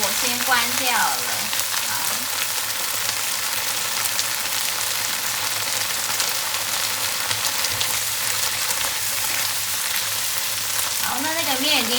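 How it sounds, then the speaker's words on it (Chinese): Garlic shrimp and tomato ingredients stir-fry in a pan, a steady close sizzle running throughout with occasional stirring scrapes and brief faint voice-like sounds near the start and end. "我们现在就是把料炒熟"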